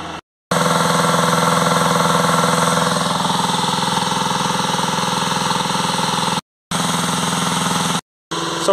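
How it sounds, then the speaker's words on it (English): A VW Crafter 2.0 TDI van with a soot-clogged diesel particle filter (fault P2463) drones loudly and steadily while driving, the continuous engine hum broken by a few abrupt, brief cuts to silence. "Now we're going to take it for a drive for about 10 or 15 minutes."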